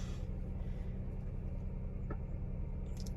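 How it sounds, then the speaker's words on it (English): A 2020 Ford Explorer Platinum idles after a cold start in 16°F freezing weather, giving a steady, even low engine rumble that holds constant throughout with no voices. "There you go. Car runs."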